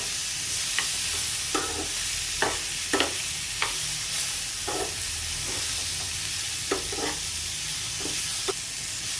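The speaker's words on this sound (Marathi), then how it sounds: "आपण आता हे सगळं एकत्र एकदा परतून घेऊ" Onion, tomato, ginger, garlic and cashews sauté in a pan under a soft, continuous sizzle, broken by regular spatula scrapes and taps, fairly quiet and close.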